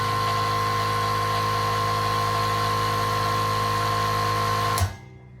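A Limodot air compressor refilling its tank: a steady, even motor drone that runs continuously and then cuts off abruptly near the end, leaving a quiet tail.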